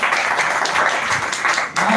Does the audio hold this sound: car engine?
no